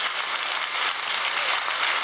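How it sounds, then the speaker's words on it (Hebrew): Steady audience applause fills a children's talent festival hall, dense clapping from a large crowd sustained throughout without a break or any voices. "כפיים"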